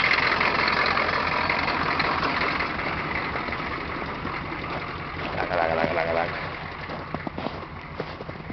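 A 6.5 diesel engine runs steadily in cold, snowy weather, a continuous low rumbling drone with a faint rattling texture that holds at an even level throughout.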